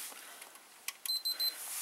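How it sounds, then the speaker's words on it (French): A Sony VHS video recorder gives three short, bright electronic beeps as it switches on, each one crisp and evenly spaced against a quiet room background. "quand on l'allume, il fait bip, ce modèle-là."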